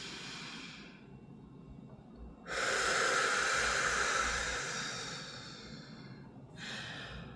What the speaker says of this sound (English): let's go ahead and take a few deep breaths together